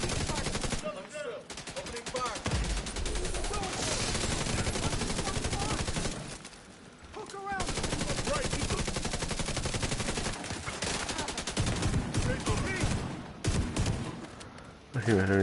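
Rapid, dense gunfire from a shotgun and other weapons rattles almost continuously in The Division 2, loud and close, with brief pauses and a voice talking over the shooting.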